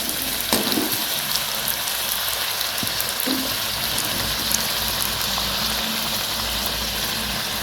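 Puris deep-fry in hot oil for pani puri, a steady crackling bubble and sizzle running throughout with a few faint clinks, close and continuous without talk.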